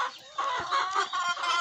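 Hens in a backyard flock, laying poorly at only about ten eggs a day, cluck in a quick uneven run of close, clear calls with no talk over them.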